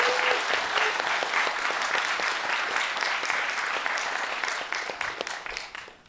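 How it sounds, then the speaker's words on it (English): Sustained applause from an audience, dense clapping throughout that fades slightly toward the end. "could we give Vijay a round of applause, please?"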